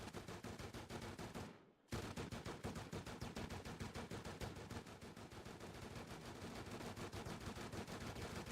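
Gunshots in a zombie video game ring out as dense rapid bursts of automatic fire. A short pause breaks them, then steady shooting resumes nonstop, loud and close.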